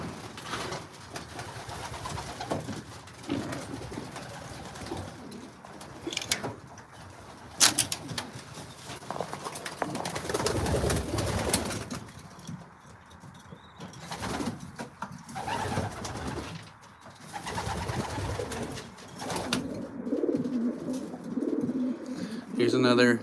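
Racing pigeons coo steadily throughout a busy loft, with bursts of wing flapping and shuffling among the birds settling on their perches, while someone talks quietly at intervals.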